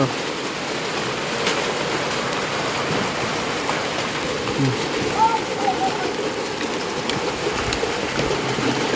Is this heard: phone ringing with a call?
no